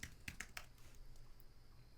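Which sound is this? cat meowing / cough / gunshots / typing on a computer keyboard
typing on a computer keyboard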